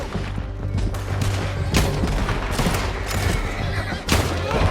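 Horses whinny amid loud, chaotic action in Red Dead Redemption 2, with bursts of gunfire and booming impacts in a dense game soundscape.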